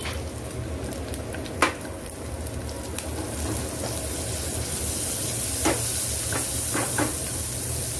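Green chillies sizzle and crackle in hot oil with asafoetida, a steady frying hiss with a few sharp pops, close and alone without talk.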